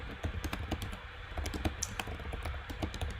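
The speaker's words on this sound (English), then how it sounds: "I will type much better if I just plug in this keyboard because it actually works." Rapid typing on a computer keyboard, a dense, fairly close patter of key clicks with slightly heavier strokes scattered through, continuous and alone with no talking.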